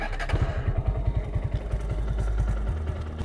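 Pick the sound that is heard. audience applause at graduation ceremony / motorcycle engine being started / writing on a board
motorcycle engine being started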